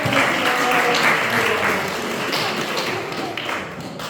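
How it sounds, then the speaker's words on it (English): An audience claps in a full, sustained round of applause that tapers slightly toward the end, with some sharper taps standing out. "Another round of applause for all of you."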